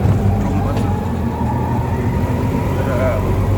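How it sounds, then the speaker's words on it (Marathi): Steady engine drone of an auto rickshaw during a ride on the way to a temple in Kolhapur, running continuously at a constant, fairly loud level throughout. "त्या रिक्षामध्ये बसलेलो आहे."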